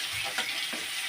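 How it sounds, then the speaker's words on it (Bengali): Garlic frying in hot oil with spices in a home kitchen, a steady close sizzle with soft stirring scrapes, with no talking. "রসুনটা একটু লাল লাল করে ভাজা হয়ে গেলে"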